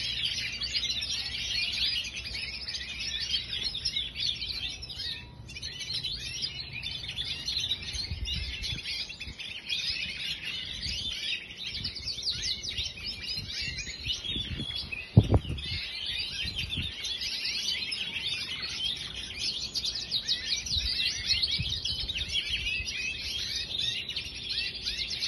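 A small bird sings continuously close by, with a dense, busy stream of high chirps and trills running throughout, plus a brief louder knock near the middle.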